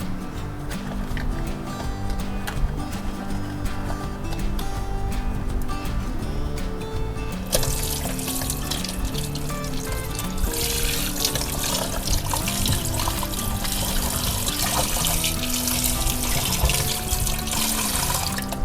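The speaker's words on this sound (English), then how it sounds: "Then you use your hand gently scrubbing to wash the sweet potato without damaging the skin." Sweet potatoes are washed by hand under a running kitchen tap, with a steady splashing stream that grows fuller and brighter partway through and continues without a break.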